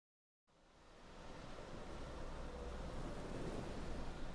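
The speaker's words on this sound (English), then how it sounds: "When the weather is calm, my waves roll gently." Ocean waves roll gently: a soft, continuous wash of surf that fades in from silence and builds into a steady, even roar, faint and distant with no voices.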